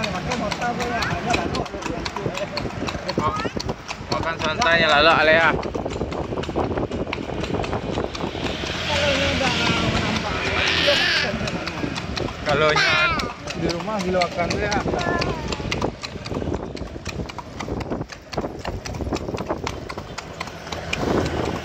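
Horse hooves clip-clop at a steady trotting rhythm as a horse pulls a bendi cart through the streets of Padang, with wheel rumble and passing traffic underneath and people chatting throughout.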